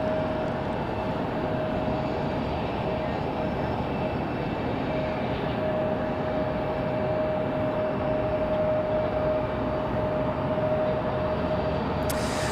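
An Endeavor Air airliner at Raleigh-Durham airport on a windy day, a steady broad engine roar with a faint whine, sustained and moderately loud throughout with no talking.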